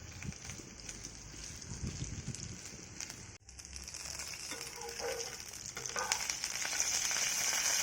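Dry fish frying in hot oil in a pan outdoors, a steady close sizzle and crackle with a faint scrape partway through and wind-like background.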